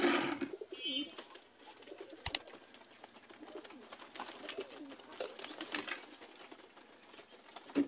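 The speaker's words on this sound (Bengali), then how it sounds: "ভাই একটু কবুতরগুলো দেখান তো।" Pigeons, racer, Sirazi and Giribaz breeds, coo softly in a loft, with faint repeated coos, occasional rustles and a sharp tap, fairly quiet and without talk.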